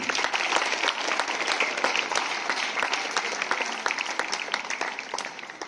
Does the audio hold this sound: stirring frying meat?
no